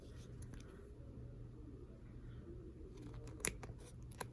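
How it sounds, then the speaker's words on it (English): Small jewelry cutters snip rings off a chain for a lariat necklace, giving one sharp close click and a fainter second one over a quiet hum. "So I'll cut off a couple of rings on this side."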